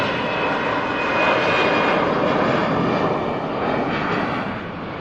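EasyJet airliner taking off at Manchester Airport for Malaga, a loud sustained engine roar with broad rushing noise that holds steady and then eases slightly as the jet climbs away, with no voices.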